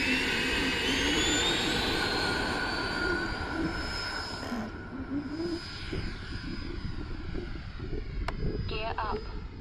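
A Freewing L-39 Russian camo RC electric ducted-fan jet whines loudly and steadily on its maiden takeoff, the pitch sliding upward as it accelerates, while someone talks nervously over it.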